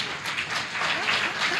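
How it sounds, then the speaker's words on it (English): Congregation clapping loudly during a church healing and prayer service, a dense burst of applause filling the short moment. "Clap, clap for Jesus."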